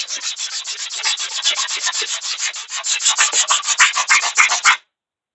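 Sandpaper rubbed briskly back and forth along a wooden hatchet handle, a close, loud run of rapid rhythmic rasping strokes that stops abruptly near the end, with no talking.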